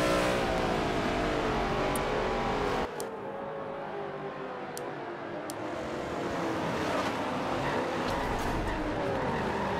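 Race cars roar around Sonoma in a NASCAR video game, a dense, continuous engine drone with shifting pitch and tire noise, loud and steady throughout with no voices.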